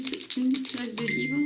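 A mobile phone chimes with a run of bright, ringing notification tones, close and fairly loud, while someone speaks over them.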